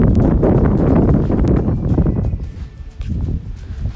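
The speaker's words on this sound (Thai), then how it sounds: "ลมแรงมากอะแอบหนาว" Strong wind gusts buffet the microphone outdoors along a riverside quay in Exeter, a loud continuous broadband rush that swells and dips with no speech.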